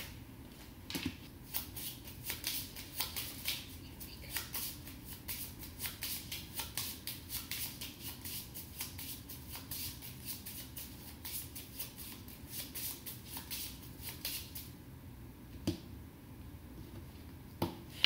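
A deck of 32 cards shuffled by hand, a run of quick, crisp riffling and flicking bursts repeating close up, quiet and without speech.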